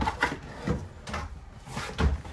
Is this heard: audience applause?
no